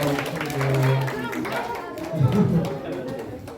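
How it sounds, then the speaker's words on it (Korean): Children at a church Sunday school service clapping together, a brief burst of claps among chatter and a raised voice in a room. "우리 고생한 우리 모두에게 박수."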